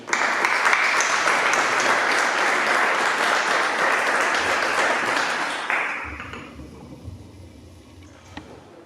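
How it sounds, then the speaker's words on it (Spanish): Audience applause fills a presentation hall at an aeronautical industry event, dense and steady for about six seconds before thinning into scattered claps and fading out. "Un aplauso para José María."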